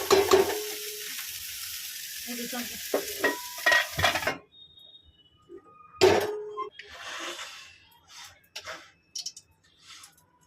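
Steamed cauliflower fries in a pan, bursts of sizzling and scraping stirring for the first few seconds, then quiet, then another short sizzle with scattered clinks and stirring noises.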